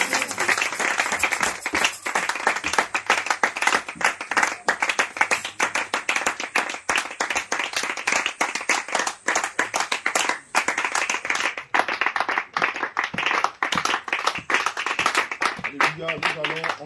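A church congregation at a consecration evening service in Garoua, Cameroon claps and applauds loudly and continuously for the whole stretch, while a voice carries on over the rhythmic clapping.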